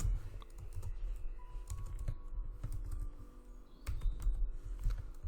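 Typing on a computer keyboard, entering a variable name into the Python interpreter: steady irregular clicking of keys throughout, close and fairly quiet, with a low background hum and no talk.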